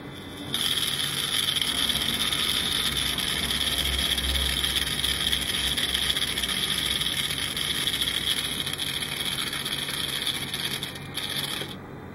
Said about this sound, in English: With the motor bouncing around as it is, it gets a really jerky sort of motion even when it is spinning without stopping